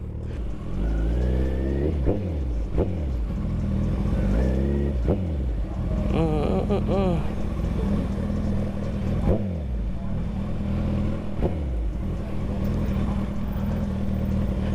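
A 600cc motorcycle rides and pulls up at a bike night, its engine rising and falling through repeated revs and gear changes, loud and close, with wind noise and a voice talking over it.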